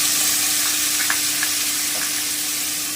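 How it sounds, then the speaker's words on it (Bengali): Tomato dropped into hot oil while cooking a vegetarian paneer dish, giving a steady, close sizzle with a few small pops and crackles, no voices. "এবারে আমি এই তেলে টমেটোটা দিয়ে দিচ্ছি"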